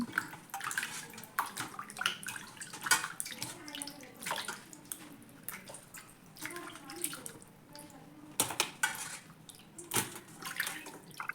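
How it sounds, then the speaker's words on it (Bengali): Fish being washed by hand in water: repeated uneven splashes, sloshes and drips, close and moderately loud, with brief pauses between handfuls over about eleven seconds. "আমি মাছগুলো আবার পানি দিয়ে ধুয়ে নিচ্ছি এরকম করে তিনবার ধুয়েছি মাছগুলো"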